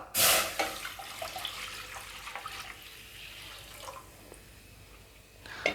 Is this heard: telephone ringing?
no